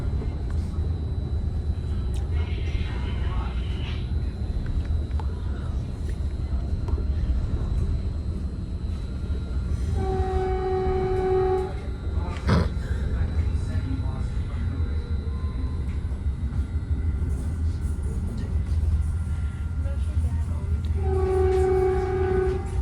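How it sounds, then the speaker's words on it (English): Caltrain 153, a northbound local, passes by as heard from aboard a southbound Caltrain, with a constant rumbling roar and two blasts of the two-tone horn, one midway and one at the end, under some talking. "Comes Caltrain 153. That's a northbound local train making all stops to 4th and King Street Station in San Francisco."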